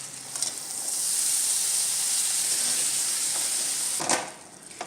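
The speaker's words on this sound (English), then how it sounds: "The butter is nicely melted and it's like sizzling." Corn kernels fry in melted butter with a steady, close sizzle and hiss that holds for several seconds, with a few faint stirring scrapes near the end.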